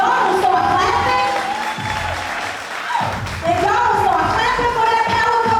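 A big crowd at an inaugural ball claps and cheers loudly and steadily, with whoops and shouted voices mixed into the continuous roar.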